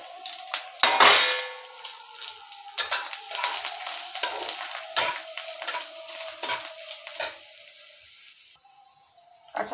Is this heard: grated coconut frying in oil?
yes